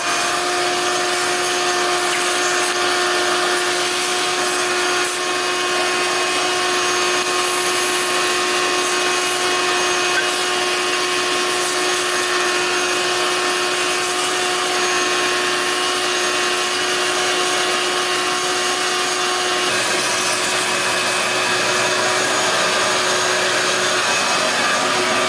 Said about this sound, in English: let's get the vacuum out and vacuum this thing off